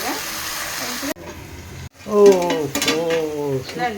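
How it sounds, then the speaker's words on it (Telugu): Raw tamarind curry with green chillies sizzles steadily in oil in a pan while someone stirs, with a voice talking over the cooking noise. "నూనెలో ఫ్రై అవుతుంది"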